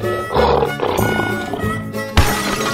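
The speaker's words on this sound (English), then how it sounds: "Lion." A lion roars loudly and close, with a deep rumbling call that swells and holds, followed by a sharper burst near the end, set against a musical backing.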